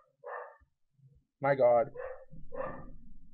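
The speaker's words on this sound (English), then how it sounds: "my dog is barking" A dog barks a few times nearby in a room, short sharp barks mixed with a person talking over it.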